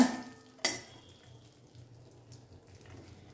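Mustard seeds and cumin sizzling in hot tempering oil for Udupi hotel-style sambar: a sharp burst as the spices hit the oil, then a faint, steady crackle.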